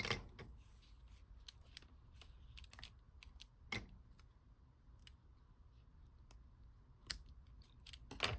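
Scissors snip through thin pink lace in a quiet room, a few faint, sharp clicks scattered at irregular intervals.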